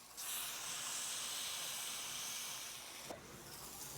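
Beef burger ball smashed onto a hot griddle, starting a loud, steady hissing sizzle that eases slightly toward the end, with a short knock near the close and no talk.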